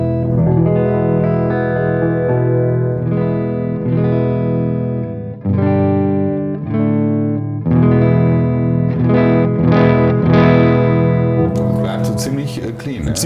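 Electric guitar played through an Engl E-653 Artist Edition 50 amplifier on its clean channel, ringing chords and arpeggios with sustained notes and a brief pause midway, steady and full throughout.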